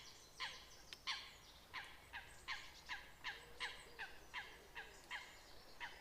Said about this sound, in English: Plenty of noisy birds.